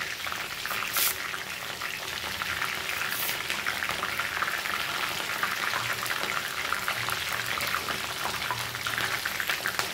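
Dried curry leaves sizzling and crackling steadily in hot oil while onion hair oil is cooked, a dense continuous fizz with occasional pops, fairly close and without talk.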